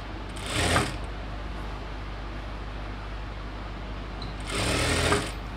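A domestic sewing machine stitching a chudidhar top, running in two loud bursts of under a second each, separated by several seconds of quiet room noise.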